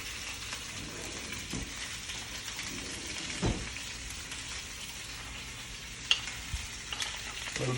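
Olive oil and butter sizzle steadily in a pan as the base for risotto, a soft continuous frying hiss with occasional pops and stirring scrapes, heard alone without talk.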